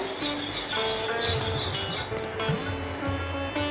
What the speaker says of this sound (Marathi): तर आपण दही मस्त अशी फेटून घेऊया